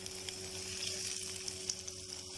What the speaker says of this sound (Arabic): هنحط بقى الفلفل دلوقتي ونقلبه مع البصل ياخد لون برده وياخد تتبيله